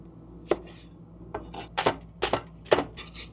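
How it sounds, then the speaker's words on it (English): Vegetables, including red onion and olives, being chopped on a board for an RV salad: several separate knife taps spread out, soft to moderate, with no talk. "Now we just need to chop up some veggies and toss them in."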